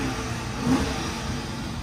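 A car engine in perfect running condition, brought in for auction, is revved once, a short rise in engine roar over a steady idle, heard close by with no talking.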